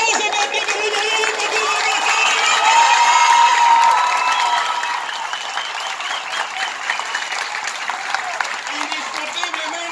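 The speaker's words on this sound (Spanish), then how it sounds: "Y el aplauso para ti" A large crowd at a political rally breaks into loud, sustained applause with cheering, swelling for a few seconds and then settling into steady clapping, with shouting voices mixed in.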